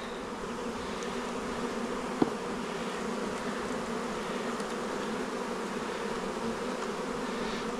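Honey bees from packages being installed into backyard hives make a dense, continuous buzzing, steady and fairly quiet, with one brief sharp click partway through and no voices.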